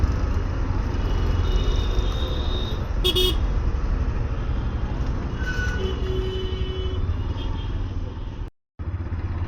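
Horn honking in busy traffic, probably from a Yamaha FZS V4 motorcycle, comes as a brief burst near the three-second mark and a fainter honk near six seconds, both over constant loud road and engine noise.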